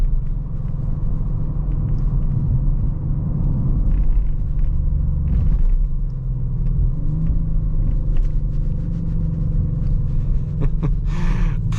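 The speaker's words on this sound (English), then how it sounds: "You really do get a pretty good sound from this V6 too." A 2023 Audi RS 5 Sportback with its V6 engine while driving on a road, a loud, steady throaty rumble from inside the car with slight swells in revs and no talking.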